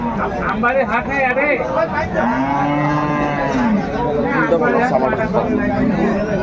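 Dairy cows low in long, drawn-out moos, several calls in a row, amid a crowd's chatter and murmuring voices at close range at Aftabganj cattle market, Dinajpur.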